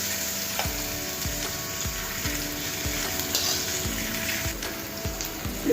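Coconut paste fries in a spiced tempering over a low flame, giving a close, steady sizzle with a spatula scraping through it in a regular rhythm, about once a second.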